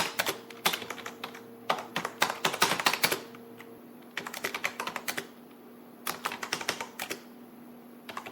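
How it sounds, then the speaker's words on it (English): Fingers type on a computer keyboard in quick bursts of close, crisp key clicks, with short pauses between the runs and no talk. "I cannot type properly."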